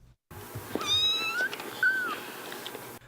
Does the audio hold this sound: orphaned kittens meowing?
yes